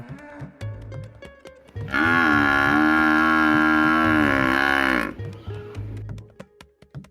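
A cow gives one long, loud, drawn-out moo lasting about three seconds, framed by softer clicks and low background noise before and after.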